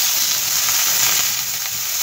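Boiled potatoes fry on full flame in a little ghee spread across a pan, giving a steady, close, even sizzle with soft crackle and no pauses.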